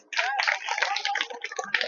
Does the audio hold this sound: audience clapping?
yes